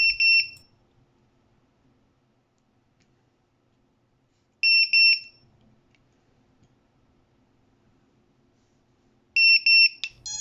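A Vifly Finder 2 drone finder sounds a high, electronic double-toned beep in short loud bursts at maximum volume roughly every five seconds, with near silence between them.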